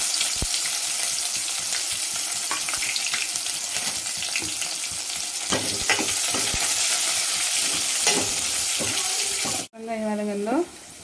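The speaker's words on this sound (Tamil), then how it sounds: "அப்புறம் நம்ம நறுக்கி வச்சுக்கினா வெங்காயத்தை சேர்த்துக்கலாங்க." Chopped onions sizzle in hot oil with mustard seeds and pepper for a brinjal kara kuzhambu, a dense, loud frying hiss with occasional stirring scrapes and pops, fairly close.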